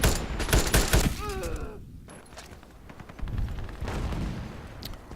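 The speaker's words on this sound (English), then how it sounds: "when a gun can do so much damage to a target, and you could shoot it as fast as you can really click, that is nice." Rapid gunfire from the MK18 EMR rifle in the online shooter Ironsight cracks out in fast, loud bursts, with a short lull before the shots resume, along with faint game sound effects.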